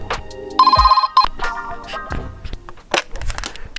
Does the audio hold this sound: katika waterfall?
no